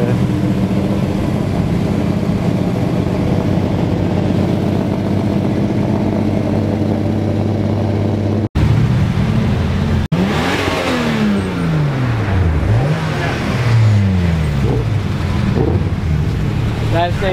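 Cars loop past and rev as they leave, giving a loud close engine drone that rises and falls through gear changes, with wind buffeting the microphone and a sudden cut partway through.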